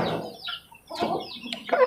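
Chickens cluck close by in a few short, choppy bursts, with a brief pause in the middle.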